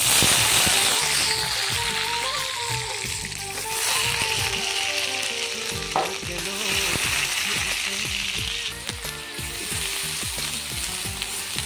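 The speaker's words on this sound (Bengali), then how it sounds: "আদা পেঁয়াজ পেস্ট করা রাখা আছে আলাদা করে, সেটা দিয়ে দিব তেলের উপর" Ginger-onion paste sizzles in hot oil in a pan, a steady loud frying hiss with repeated scraping stirs throughout, under soft background music.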